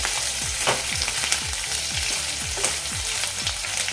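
Dried bombil fish roasts crisp in a pan with a steady sizzle, broken by regular scraping strokes of a spatula roughly every half second.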